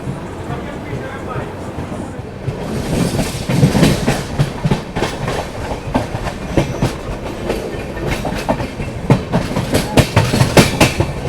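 Rhythmic clickety-clack of a passenger train rolling over rail joints as it arrives at Bhatni railway station, loud and close, with a steady rumble and some faint voices underneath.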